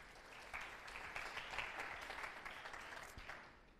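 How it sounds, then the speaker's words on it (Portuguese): Classroom students clapping for a classmate named Carlos during a calculus lesson, a brief burst of dense applause from a small group that fades out toward the end. "Palmas para o Carlos,"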